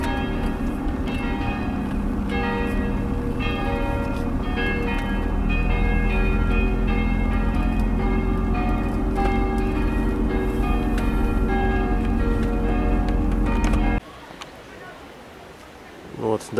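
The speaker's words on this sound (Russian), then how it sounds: "Колокола." Church bells ring steadily near the Auschwitz museum in Poland, a sustained, close, resonant peal that fills the air for about fourteen seconds and then stops, leaving quiet outdoor ambience.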